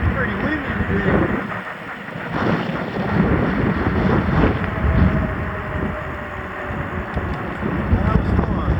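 Strong wind gusts buffet the microphone outdoors on a boat, a loud rushing roar that swells and eases over the whole stretch, with water noise underneath.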